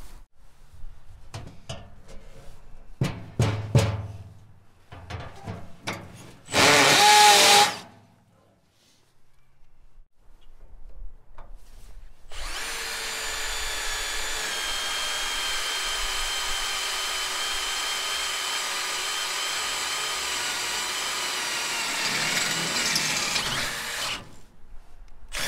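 Power tool work while a Harbor Freight trailer tongue storage box is installed: scattered clicks and clatter, a short loud burst, then a long steady drill whine running about twelve seconds, close by with no talk.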